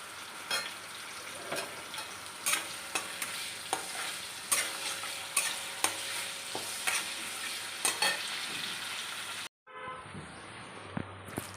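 Crushed garlic frying in mustard oil in a wok, a continuous close sizzle broken by regular spatula scrapes and clacks, then a brief drop to quiet and a softer hiss.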